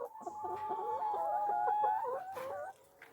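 Farm chickens clucking steadily at close range while they eat, a dense run of overlapping calls that drops away near the end.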